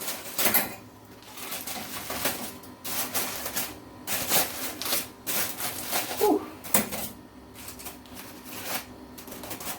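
A fork scrapes and taps against a roasted pork leg fresh from the oven, a steady run of close clicks, scratches and clinks with irregular rhythm, with faint speech in the background.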